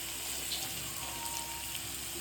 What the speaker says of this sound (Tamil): இப்போ இதில் தண்ணி ஊற்றி இதை வேக வைக்க போவோம்.